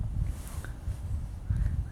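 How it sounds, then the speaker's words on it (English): Gusty wind buffets a microphone on a porch outdoors, low rumbling bursts swelling and fading with faint rustle, no talk. "It's a little windy out"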